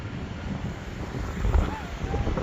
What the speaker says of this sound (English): And the wind got this thing at a standstill